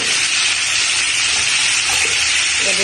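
Sea crabs drop into hot oil and set off a loud, steady, hissing sizzle that carries on without a break, close and dense.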